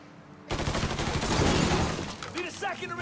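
Gunfire in Mafia 3 opens abruptly with a loud, dense burst of rapid shots and shattering impacts, then eases into scattered cracks and clatter as a voice talks briefly over the end.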